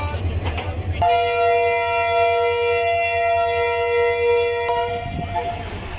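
151 Up Shah Latif Express train on the main line near Hyderabad sounds a long, steady multi-tone horn that holds for several seconds over a constant low rumble of the running train, ending abruptly.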